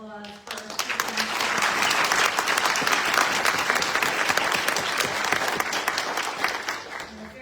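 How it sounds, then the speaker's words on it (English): An audience at a 2023 Martin Luther King Jr. event breaks into sustained, full applause that rises quickly and stays loud and dense for several seconds before easing off at the end. "So let's have another round of applause for"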